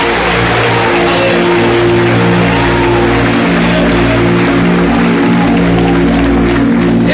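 Congregation applauding during a church sermon, a steady broad wash of clapping over a constant low hum, filling the space for several seconds.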